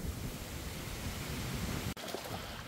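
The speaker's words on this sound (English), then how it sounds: "Ah, we got a storm rolling in. There's nothing I can do about it. The wind's already here." Steady wind of an approaching storm blows outdoors in a broad, even rush, moderately loud and continuous, briefly cut by a single sharp knock near the end, with no talk.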